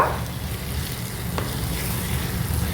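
Spices sizzle steadily in hot frying oil while being stirred for a Rajasthani red mutton curry, a continuous close hiss with a faint scrape of the spoon partway through.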